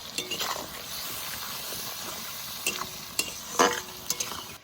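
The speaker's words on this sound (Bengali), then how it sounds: "তেলও ভাজা হয়ে যাবে আর এই পেঁয়াজ আর লঙ্কাও ভাজা হয়ে যাবে।" Onion and chilli fry in fish oil with turmeric and salt, a soft continuous sizzle under a few sharp utensil scrapes and clinks in the pan, fairly quiet and without talk.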